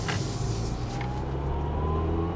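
2012 Ford Fiesta SE engine accelerating at three-quarter throttle, a steady interior drone with a slowly rising tone under road noise, no talking.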